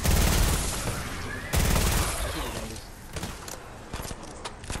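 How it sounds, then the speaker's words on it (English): Rapid bursts of gunfire in a Fortnite match, loud and close at first, then scattered single shots and distant rattles, with players' voices faintly underneath. "I'm gonna shoot at it for me."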